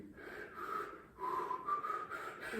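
A soft, airy whistle through the lips during a horn lesson, two sustained tones with a short break between, breathy and fairly quiet with no talking.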